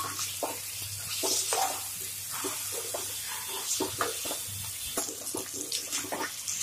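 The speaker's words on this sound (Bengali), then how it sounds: "পেঁয়াজের মধ্যে আমরা চিকেনগুলো দিয়ে ভাজা করি" Chicken pieces fry with onions in a pan for posto chicken, a continuous hiss broken by irregular bursts of crackle and shuffling as the pieces are moved about. No one speaks.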